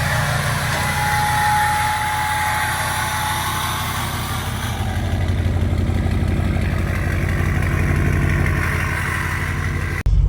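A 6.0-liter truck engine idles steadily with a deep, pulsing low rumble for about ten seconds, close and loud, alone without talk.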